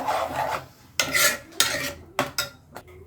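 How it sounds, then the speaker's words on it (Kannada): Palak paneer with kasuri methi is stirred in a pan with a metal spoon, giving several rough scraping strokes in uneven bursts, close and fairly loud, with no talking. "ಈಗ ಮಿಕ್ಸ್ ಮಾಡ್ಕೊಳ್ಳೋಣ ಥರ ಚೆನ್ನಾಗಿ ಮಿಕ್ಸ್ ಮಾಡ್ಕೊಳ್ಬೇಕು"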